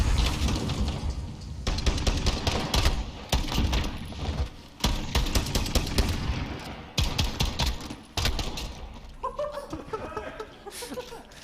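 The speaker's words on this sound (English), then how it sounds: "This is an oddly automatic shotgun." Rapid automatic shotgun blasts in Call of Duty: Modern Warfare ring out in dense, repeated bursts during an esports match, loud and close, broken by short pauses, with fainter in-game sounds toward the end.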